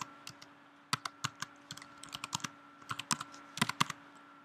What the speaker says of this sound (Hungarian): Azért gépelek ilyen lassan,